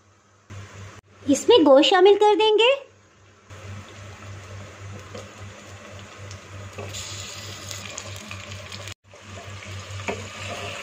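Onions and mutton frying in a pot for mutton kunna, a steady low sizzle that comes after a short burst of speech.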